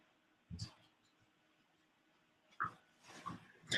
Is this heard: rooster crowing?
no